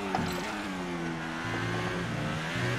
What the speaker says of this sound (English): Also, the engine sound is extremely silent, to my liking at least.